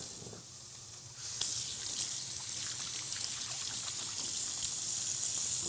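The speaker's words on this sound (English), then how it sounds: "Just going to wash my hands here." Running tap water streams steadily into a kitchen sink as hands are washed beneath it, a soft continuous splashing trickle with small shifts as the flow is interrupted, no talking.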